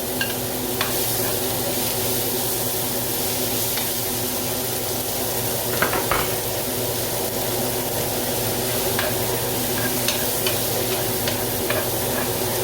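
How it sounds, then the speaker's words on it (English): Tomatoes sautéing in a pan for spaghetti with chorizo, a constant crackling sizzle with occasional light clicks of a utensil against the pan, close and fairly loud. "saute the tomato for a bit and add garlic"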